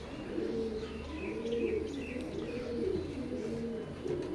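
Several pigeons coo in low, rolling, overlapping calls nearby, continuous and soft, with occasional faint chirps above.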